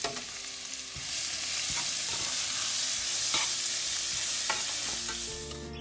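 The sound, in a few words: grated green mango being roasted in a pan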